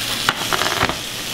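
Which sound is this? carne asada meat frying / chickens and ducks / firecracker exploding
carne asada meat frying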